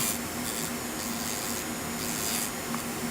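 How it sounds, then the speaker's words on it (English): An electric nail file buzzes steadily, with a fine gritty rasp as a sanding band files the side of an acrylic nail in short repeated passes. "So I'm just filing the side of my nail using my sanding band."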